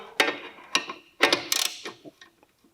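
A ratchet wrench undoes 12mm bolts on a Subaru Legacy B4 twin turbo during a starter replacement, giving several short bursts of close mechanical clicking and ratcheting with brief pauses between them.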